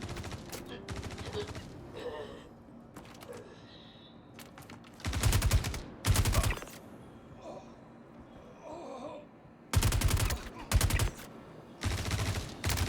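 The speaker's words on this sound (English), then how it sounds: "Taking a bit of fire here" Bursts of automatic gunfire from the space shooter game Star Citizen during a mercenary mission, with several loud rapid volleys in clusters separated by quieter stretches of ambient game sound.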